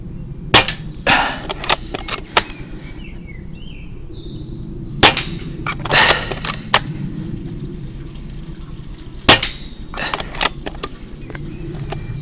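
An airsoft pistol fitted with a 3D-printed aftermarket magazine fires fifteen sharp, close snapping shots in irregular clusters, with quiet gaps between them and faint background noise.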